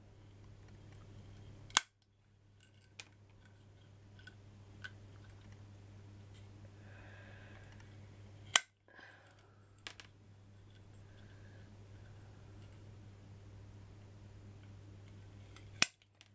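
Small pieces for a miniature ladder are snipped to equal length, giving a few sharp, crisp cuts spaced several seconds apart over a steady low hum in a quiet room.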